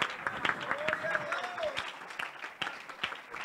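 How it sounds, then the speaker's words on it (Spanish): Applause from a church congregation, a dense patter of clapping with a voice speaking over it and a rising vocal tone briefly heard. "Un aplauso al Señor Jesucristo."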